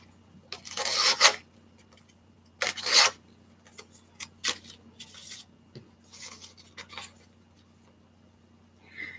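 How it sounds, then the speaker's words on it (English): Paper flower petals being curled make soft, scratchy rasping strokes in a quiet room, coming in irregular short bursts with a few louder scrapes between quieter rubbing. "you're gonna curl all of these petals"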